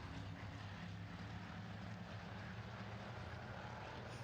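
Pure stock race cars roar down the back straight of a dirt oval during a heat, producing a dense, steady engine drone heard from a distance with no break in the noise.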